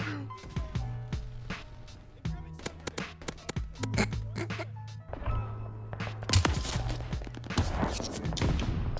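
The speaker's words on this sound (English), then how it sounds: "Why am I getting shot in the back?" Bursts of gunfire in the video game Call of Duty Vanguard, rapid sharp shots and volleys of varying loudness, some near and some farther off, mixed with thuds and footsteps over a continuous game background.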